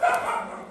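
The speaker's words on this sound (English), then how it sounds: "Excuse my dogs." A dog gives a single short, high yip or bark indoors. It is brief and moderately loud, and nothing else is heard around it.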